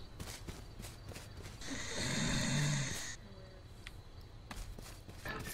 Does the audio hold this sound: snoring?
yes